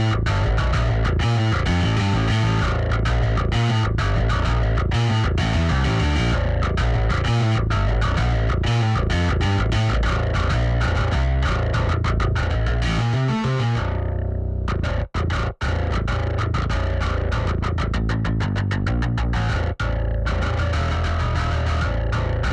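Bass guitar plays through the full ArchitectsBass processing chain by Submission Audio, a heavy, distorted and effected tone that runs loud and continuous, briefly thinning out near the middle, with no talking.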